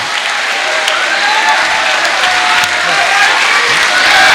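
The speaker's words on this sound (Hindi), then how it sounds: "जरा तालियां जोरदार बजा दीजिए।" Loud, sustained audience applause at a poetry recital at HBTU Kanpur, a thick continuous roar of clapping from a large crowd, with faint voices beneath it.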